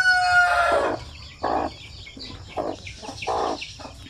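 Native Basilan chickens with their chicks: a rooster's crow opens, followed by repeated clucks and soft cheeping at close range.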